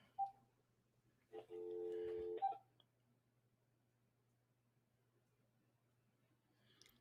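A telephone keypad being dialed: a short burst of electronic tones lasting about a second, faint and clean over a low steady hum, then near silence.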